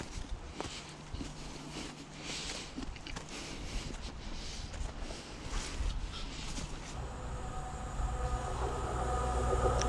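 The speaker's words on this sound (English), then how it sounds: "Let's go watch the train." A train rumbles past nearby, a steady rolling clatter of wheels on rails that grows louder toward the end.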